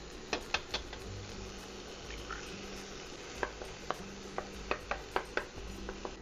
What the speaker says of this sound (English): I just let them fry. We're gonna go ahead and mix them up as they cook.